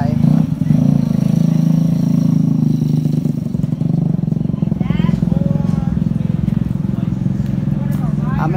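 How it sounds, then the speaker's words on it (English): A 190cc racing pocket bike engine runs at a steady, close, loud idle with a low droning hum and a slight rise in revs, while someone talks over it. "This is 190 pocket bike, but this is a racing bike"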